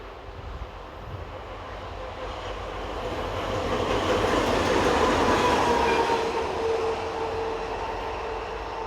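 Two infrastructure-fleet locomotives pass on the Mâcon to Chalon-sur-Saône main line in France, a steady loud rumble of engines and rolling wagons building to a peak midway, with faint wheel squeal and rhythmic rail clatter.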